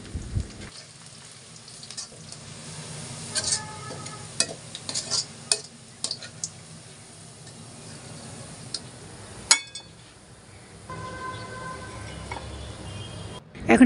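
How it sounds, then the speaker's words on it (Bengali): Onions frying in oil for beresta, a crisp fried-onion topping for fish kabab, with a steady sizzle and scattered scraping stirs, plus a few sharper knocks and a loud clatter near the end. "আমি এখন ফিশ কাবাবের জন্য পেঁয়াজের বেরেস্তা করে নিচ্ছি"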